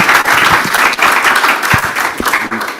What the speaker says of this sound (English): And a round of applause for the moderator, please.